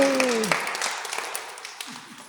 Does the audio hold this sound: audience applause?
yes